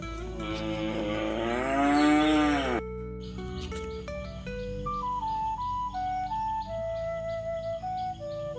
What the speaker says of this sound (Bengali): এই গরুটা আমাকে যেতে দেবে না বলে পথটাই আটকে রেখেছে